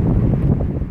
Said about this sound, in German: Wird ein bisschen zu windig hier. Hier zieht es echt gerade durch die Straße, wo ich stehe.